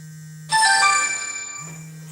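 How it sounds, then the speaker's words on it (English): A phone ringtone plays one bright, chiming melodic burst of a little over a second, loud and close, cutting over a steady low hum before fading out. "I gotta take this phone call"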